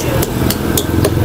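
A hammer gently taps a car battery's cap back into place, giving four light, evenly spaced knocks over a low background hum.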